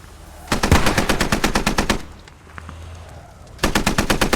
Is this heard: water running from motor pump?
no